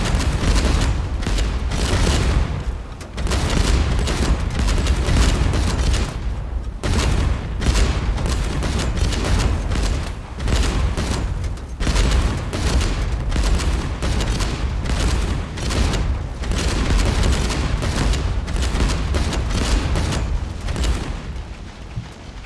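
Ship guns firing in the naval video game Age of Water, a dense, loud, continuous barrage of booming shots with rumbling low end and no talking.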